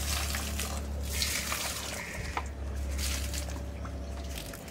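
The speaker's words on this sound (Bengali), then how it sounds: "দিনে দুবার করে আমি গাছে জল দিচ্ছি" Water from an outdoor tap splashes onto garden plants, a close, continuous patter and gurgle with small drips, moderately quiet and with no one speaking.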